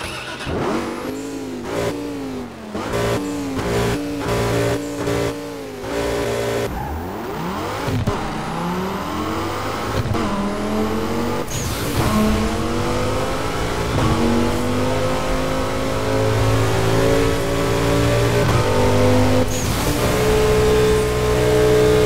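Car engine in the video game Burnout Paradise, revving and rising through gears with tires drifting around corners; loud, continuous engine whine sweeping up and down in pitch, with brief gear-shift dips early on.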